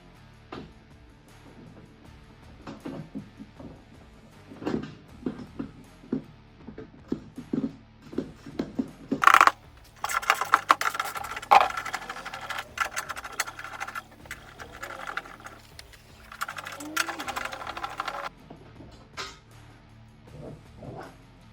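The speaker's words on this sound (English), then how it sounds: "we have to take out the 4 13mm bolts that are right there that holds that metal piece into the plastic housing" Irregular metallic clinks, ratchet clicks and scraping as four 13mm bolts are worked loose from the metal piece in a Jeep's plastic bumper housing, with a sharp clang midway followed by denser rattling and tool noise, close up and without speech.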